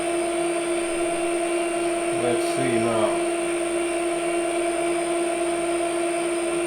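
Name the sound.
drill running at slow RPM with cutting oil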